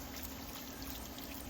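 Tap water runs steadily over cucumber seeds being rinsed, a continuous close splashing trickle with no pauses.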